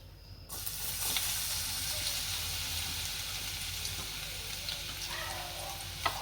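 Garlic dropped into melted butter in a pan for pasta, a sudden burst of close, steady sizzling and frying that continues throughout with occasional stirring clicks.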